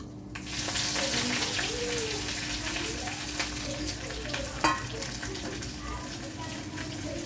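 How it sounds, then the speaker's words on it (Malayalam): Mustard seeds popping and sizzling in hot oil with shallots and curry leaves, a constant bright crackle and hiss with scattered sharp pops, up close, while a voice talks over it. "കടു കൊടുക്കണം അപ്പോൾ നമ്മുടെ കടു ഏകദേശം പൊട്ടി"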